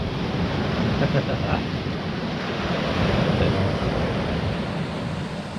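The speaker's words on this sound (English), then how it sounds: "The old waves are certainly giving these rods a bit of grief" Sea waves surging and breaking on a shore where people fish with rods, a steady loud roar of surf mixed with wind buffeting the microphone, with no pause throughout.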